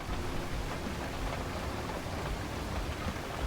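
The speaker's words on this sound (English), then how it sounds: "Of course, it is raining." Steady rain pours down in the Roadcraft video game, a dense, even hiss of falling water with no voices over it.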